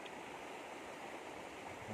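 A river flows steadily as a faint, even wash of rushing water, continuous and unbroken, with no voices.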